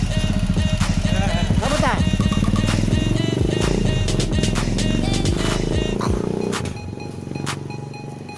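A rescue motorcycle engine warms up close by in a steady, loud idling rumble that stays even and then softens slightly near the end, with a brief spoken greeting over it.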